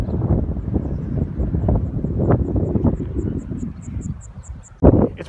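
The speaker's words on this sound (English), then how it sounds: "It's pretty windy today." Wind gusting across flooded rice fields in the Japanese countryside in early June, a steady broadband rush of microphone buffeting that swells and eases throughout, with a sharper gust near the end.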